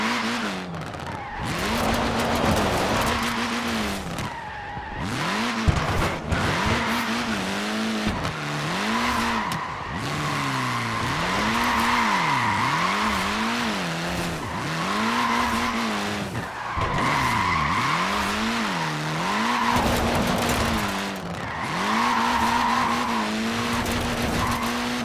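Short-wheelbase front-wheel-drive Mini sliding in Forza Horizon 4, with an engine droning steadily and repeated tire squeals rising and falling in sweeping arcs throughout, loud and close with no talking.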